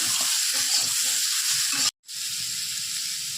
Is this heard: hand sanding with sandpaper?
no